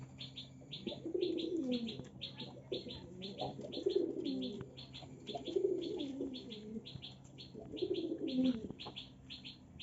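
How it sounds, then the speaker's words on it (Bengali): A pigeon in a loft coos in repeated soft, throaty phrases about every two seconds, with fainter rhythmic chirps from other birds in the background. "এই দেখেন এই পায়রাটার ডাকটা দেখেন শুধু।"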